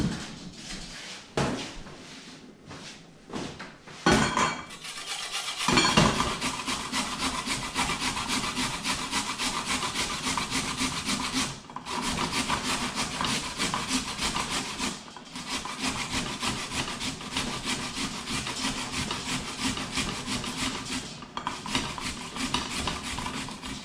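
A handheld kitchen grater rasps steadily and close up, a few separate strokes at first, then a continuous run of scraping strokes with no talking.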